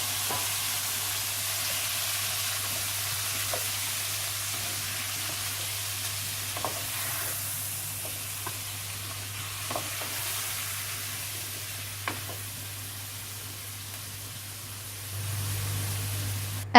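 Chopped lamb fries in a pan with a soft, steady sizzle and occasional light clicks from stirring, continuing evenly throughout with no talk.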